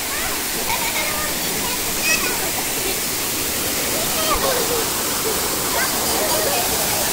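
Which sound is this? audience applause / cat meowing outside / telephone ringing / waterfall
waterfall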